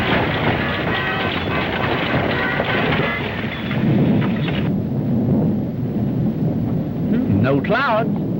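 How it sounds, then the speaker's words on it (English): Loud rolling thunder from an old serial's outdoor scene, a broad continuous rumble that swells and sustains over several seconds, with a voice cry or whistle rising briefly near the end. "but that was thunder"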